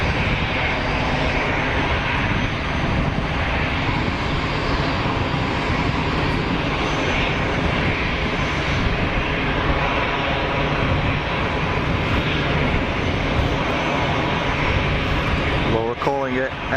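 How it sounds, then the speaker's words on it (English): Air Malta Airbus A320 jet arriving at Geneva Airport, a loud, steady engine roar filling the whole stretch with no break, close and constant, with a faint rising whine near the end. "Air Malta's Airbus 320 in from Malta."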